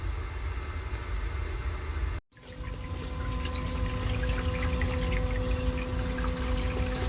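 A newly installed sump pump runs in its basin, a steady close rushing and gurgling of water with a faint hum, after a brief cutout early on, and no talk.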